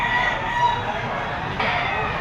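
A Golden Boy Boston gamefowl rooster crows in a sustained, harsh call lasting about two seconds, loud and close, with a second rising phrase near the end over steady background noise.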